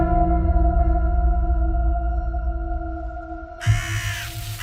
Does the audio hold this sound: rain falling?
no